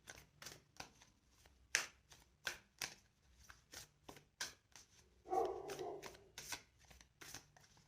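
A tarot deck is shuffled and cards are drawn, giving a run of crisp, evenly spaced flicks and slaps. A denser riffle of cards rasps through the middle. The sound is close and fairly quiet, with no talking.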